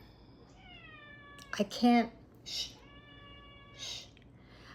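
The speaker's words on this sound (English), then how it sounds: "that's my cat" A house cat gives several clear, drawn-out meows close by, one rising into a louder, more strained call near the middle. Someone speaks briefly between the calls.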